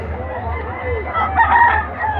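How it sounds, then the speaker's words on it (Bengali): Roosters fighting in a cockfight at a crowded Manasa puja fair, with rooster crowing and clucking calls rising over a steady low hum of crowd noise, loudest toward the middle of the stretch. "দুটো মুরগি লড়াই করছে"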